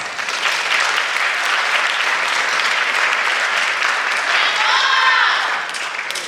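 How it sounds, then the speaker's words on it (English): Audience at an award event giving a round of applause, loud, dense clapping from a large crowd that holds steady for several seconds, with a brief whistle or cheer near the end. "So please give a round of applause."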